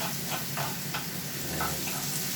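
Bacon fries in a pan for a breakfast, giving a loud, dense, continuous sizzle and crackle up close with faint intermittent pops, no talking over it.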